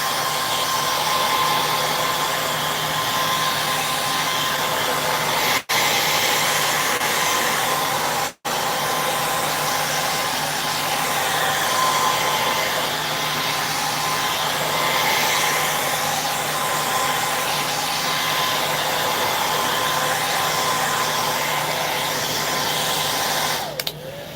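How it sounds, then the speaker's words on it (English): A hair dryer blows with a loud, steady whir close by, drying upcycled piano keys, running continuously with a couple of brief cutoffs. "I'm going to get my trusty hair dryer here"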